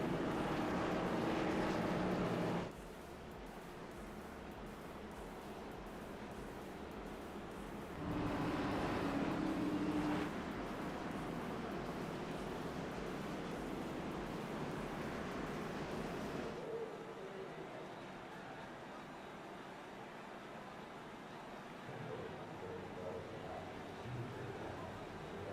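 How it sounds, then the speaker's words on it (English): Race cars roaring past at Richmond Raceway, with a loud engine surge near the start and another around eight to ten seconds, under a steady wash of crowd and engine noise. "we'll let you guys take just sounds and sights of the race cars they go by here for a couple laps"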